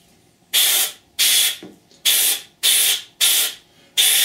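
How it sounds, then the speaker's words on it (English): An airbrush sprays paint onto a 1/48 scale Academy F-4B Phantom model kit in six loud, even bursts of hissing, each about half a second long with short pauses between. "when we spray it like this, you can physically see it running"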